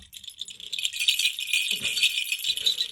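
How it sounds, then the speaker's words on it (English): An antique silver baby rattle fitted with a whistle, small bells and a coral teether is shaken, giving bright, close jingling and rattling in uneven bursts, fairly quiet and with no talking. "A whistle, bells, a rattle, a piece of coral."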